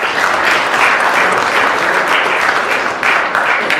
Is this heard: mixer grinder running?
no